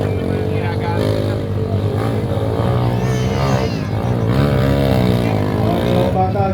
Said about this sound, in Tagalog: Maganda magalit yung makina nito.